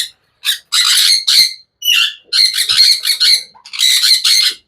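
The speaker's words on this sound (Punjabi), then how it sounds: "ਸਾਡੇ ਮੇਰੇ ਜਿਗਰ ਦਾ ਤੋਤਾ" A pet parrot squawks in loud, harsh bursts, about eight close calls in quick irregular succession with short silent gaps.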